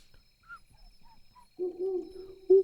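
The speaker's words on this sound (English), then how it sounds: "I like the owl sounds." In the Suikoden video game, an owl gives soft, low hoots that swell near the end into two fuller, louder calls against a quiet night background.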